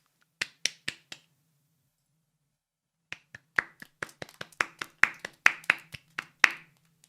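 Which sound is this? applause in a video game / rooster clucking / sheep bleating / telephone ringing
applause in a video game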